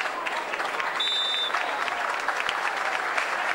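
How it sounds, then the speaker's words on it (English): Applause from a hurling crowd at the Kilkenny senior county final replay marks a player substitution, steady dense clapping spread across the stands for the whole stretch, with a brief whistle-like tone near the start. "A round of applause for Ray Cody."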